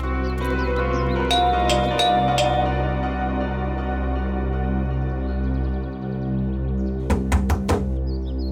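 Knocking on a door in a TV crime drama, a few sharp raps early on and a quick burst of several knocks near the end, set against a loud sustained tense music score.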